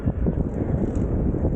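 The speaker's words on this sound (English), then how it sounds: "It's kind of windy today as well." Wind buffeting a microphone on a busy avenue in Midtown New York on a cold winter day, a loud, low rumbling roar that churns continuously through the short moment.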